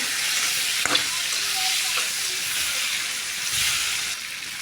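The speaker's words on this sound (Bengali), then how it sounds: "তেলে আগে চিনিটা ভেজে নিলাম দিয়ে দিলাম রসুন কুচি পেঁয়াজ কুচি" Sugar, chopped garlic and onion fry in hot oil for a Bengali prawn dish, giving a steady close sizzling hiss throughout with a couple of faint clinks of a utensil.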